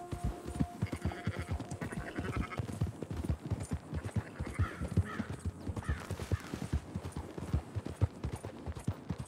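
Horse hooves clip-clop steadily and close in Red Dead Redemption 2, with occasional faint sheep bleats and other animal calls mixed into the busy game soundscape.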